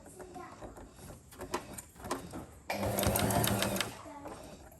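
Sewing machine runs in a loud steady burst while stitching the shoulder seam of a kameez, preceded by shorter stitching spurts, with a voice speaking intermittently.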